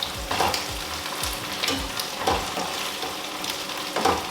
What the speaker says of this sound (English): I'm going to add the blended tatashe and onions.